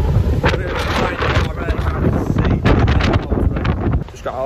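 Strong wind buffets and rumbles across the microphone in gusty bursts outdoors in Altrincham on a football match day, loud and close, with a brief lull near the end.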